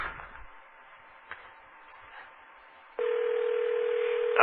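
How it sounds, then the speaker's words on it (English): A telephone line signals on a call: faint hiss and a thin tone, then from about three seconds a loud, steady electronic tone holds to the end, with no voices. "Why do I hear a phone ringing?"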